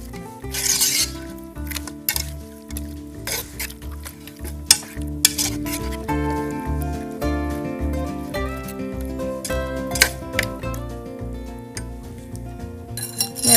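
Pepper chicken being stirred in sauce in a pan after a pinch of salt goes in, with steady sizzling and repeated clinks of a spoon against the pan, loud and close, with no talking.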